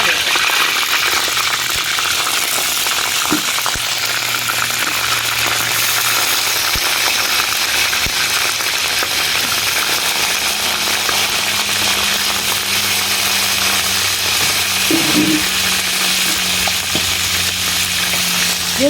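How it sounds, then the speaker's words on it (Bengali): Cauliflower fries loudly in hot oil outdoors at a picnic, a dense continuous hiss and crackle, with faint voices and occasional clatter underneath. "তেল গরম হয়ে গেছে এবার আমরা প্রথমে যেহেতু ফুলকপি সময় লাগে একটু তো ফুলকপিটা আগে ভেজে নেব"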